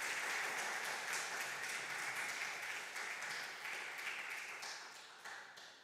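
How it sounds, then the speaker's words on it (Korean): A church congregation at a Sunday service in Dortmund claps to welcome visitors, warm sustained applause filling the room and slowly fading over several seconds. "우리 박수로 환영하겠습니다."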